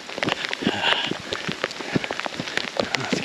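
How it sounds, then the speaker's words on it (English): Rain falling during a hike in the woods, a dense close patter of drops hitting surfaces and gear, loud and continuous throughout without talk. "Let's get out of this rain."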